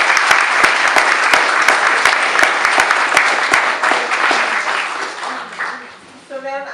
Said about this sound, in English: Eleanor, you're going to have to, and Jack, you're going to have to take the applause yourself.